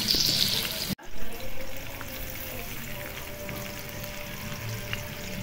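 Cooking oil heats in a pan set on a gas stove, giving a continuous broadband hiss interrupted by one abrupt cut-off near the start before the steady frying sound resumes.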